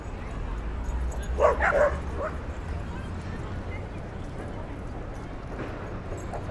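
Dogs bark at a dog run in Madison Square, Manhattan, with a short cluster of yips and barks at medium distance over outdoor city noise. A person talks nearby.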